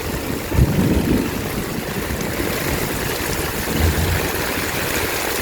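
Steady rushing water flows continuously with a broad, churning roar, loud and close, no voices.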